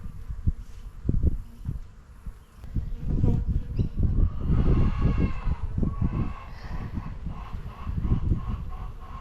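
Honeybees buzz at an open hive, a close, steady drone that swells and fades with a few rustles and knocks in between.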